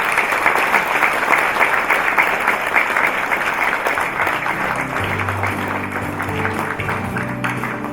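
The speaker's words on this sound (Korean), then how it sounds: "여러분 박수 부탁드리겠습니다" Steady applause from a large crowd at an inauguration ceremony, continuous and fairly loud throughout, with a low musical tone entering toward the end.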